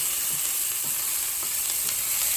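Onions sautéing over medium heat in a pan for Russian borscht give a steady, close sizzle with soft crackles throughout, with no talking.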